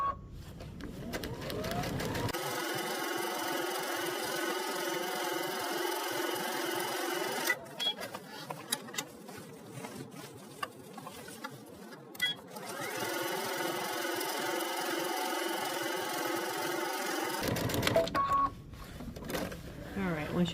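Home sewing machine running steadily as it sews a second row of gathering stitches on a garment, a continuous whirring hum that pauses briefly midway and is joined by a voice talking over it.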